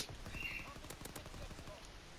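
Rapid automatic gunfire from Call of Duty: Modern Warfare 2 Remastered multiplayer, a steady rattling burst of shots running the whole time at moderate level alongside game ambience.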